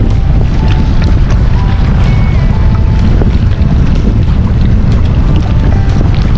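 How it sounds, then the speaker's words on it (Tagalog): Strong wind roars steadily and loudly across the whole stretch, buffeting the microphone with a constant low rumble. "Yung malakas ang hangin."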